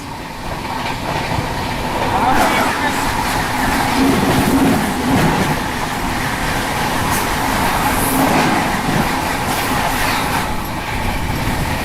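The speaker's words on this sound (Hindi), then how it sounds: "सामने से ये आ रही है गया नई दिल्ली महाबोधि एक्सप्रेस।" Gaya–New Delhi Mahabodhi Express rolling along on the rail line near Tundla Junction, a steady loud rumble of wheels on track with faint clatter, continuous and close for the whole stretch.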